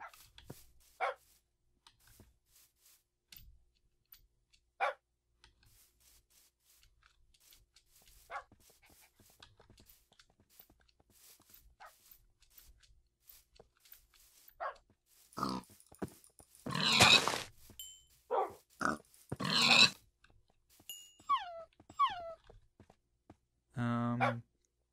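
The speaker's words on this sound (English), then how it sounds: "amassing a massive dog army" Dogs in Minecraft give a burst of clustered barks and yelps near the end, loud and close. Sparse, quieter blips come earlier, and a brief low grunt follows.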